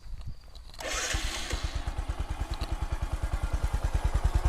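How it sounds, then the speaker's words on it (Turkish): A Bajaj Discover 125 ST motorcycle engine cranks and catches, then settles into a steady, loud idle with a regular thumping pulse, close by. "Bir çalıştıralım motoru."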